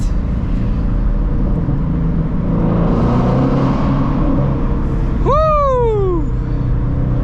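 A stock-exhaust 2016 Shelby GT350 rises in a loud, sharp rev that climbs steeply and then falls away, after steady road and engine rumble.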